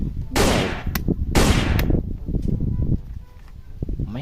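A blue toy shotgun fires in two loud, harsh electronic bursts, each ending in a short click, followed by fainter buzzing sound effects, close to the device with no speech.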